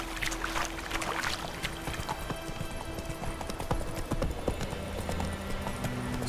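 Roach the horse galloping in The Witcher 3: Wild Hunt, a continuous rapid clip-clop of hooves with a short whinny, over busy outdoor game ambience and no talk.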